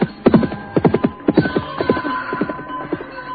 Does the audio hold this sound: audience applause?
no